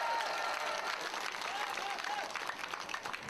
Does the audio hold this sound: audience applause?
yes